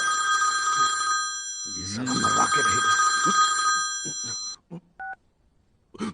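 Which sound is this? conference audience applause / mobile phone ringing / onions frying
mobile phone ringing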